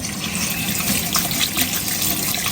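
Cold water poured steadily into a pot or sink in a home kitchen, a continuous close trickling wash with no talk over it.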